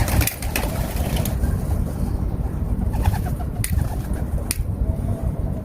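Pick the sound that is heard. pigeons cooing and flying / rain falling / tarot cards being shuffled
pigeons cooing and flying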